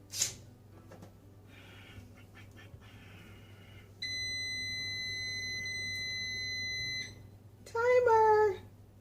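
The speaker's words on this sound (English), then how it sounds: "That was the timer set for me to check and see if the soap had set up" A kitchen timer beeps during soap making, first a faint tone, then a long steady electronic beep lasting several seconds, followed by a louder warbling chirp, with small handling clicks beforehand.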